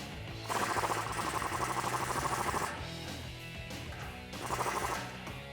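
A power tool with a 15mm deep socket whirs in short bursts, loosening tailpipe exhaust clamps on a 2009-2018 Ram 5.7L, rattling and buzzing as it runs, with quieter gaps between, fairly close.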